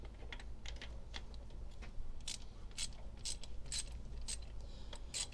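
A ratchet wrench loosening bolts on a 45-year-old Datsun, with rapid close clicking bursts in irregular runs over low background rumble and no speech.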